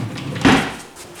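A workshop drawer holding paints and inks slides open with one short, moderately loud scrape and knock amid quiet room tone.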